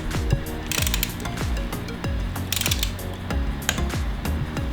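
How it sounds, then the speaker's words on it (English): Close, repeated ratcheting clicks from a torque wrench tightening the derailleur bolt on a Norco Sight mountain bike during a SRAM AXS install, coming in quick bursts of pawl clicks with short pauses between strokes. "grab a torque wrench, 11 Newton meters, and just tighten this down"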